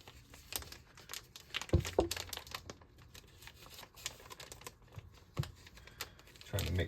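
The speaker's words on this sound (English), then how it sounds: "I'm going to cut a little slit here" A blade slits a plastic mushroom grow bag, giving close, crinkly plastic rustles and taps with a few sharper clicks, fairly quiet throughout.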